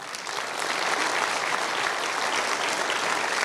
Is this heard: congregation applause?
yes